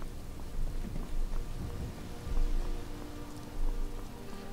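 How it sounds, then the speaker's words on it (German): Steady rain patters in Skyrim's outdoor world, a dense continuous hiss of drops with low rumbling swells, moderately soft and with no voices. "Kann man jemand das Wetter ausschalten? Den Regen?"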